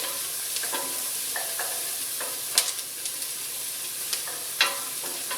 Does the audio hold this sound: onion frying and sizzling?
yes